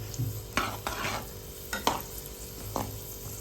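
Raisins frying in hot oil for double ka meetha give a soft, steady sizzle, broken by a few sharp scrapes and taps of a spoon stirring them in the pan, close and without talk.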